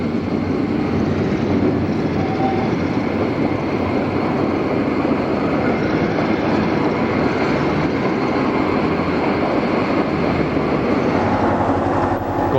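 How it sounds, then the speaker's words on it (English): The California Zephyr passenger train approaches behind new locomotive power, a loud, continuous rumbling roar with rail noise that holds steady throughout and has no talk over it. "the new power for the train approaches"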